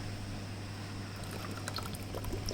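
Water is poured into mango juice with sugar added, giving a faint, close trickling and splashing over a low steady hum in a quiet kitchen.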